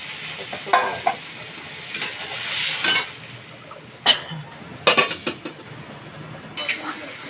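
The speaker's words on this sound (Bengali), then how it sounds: "আবার একটু জল দিয়ে আর একটু কষবো" Pointed gourd and potato curry is stir-fried with a splash of water in a pan, giving a close, moist sizzle broken by repeated scraping stirs and spatula knocks.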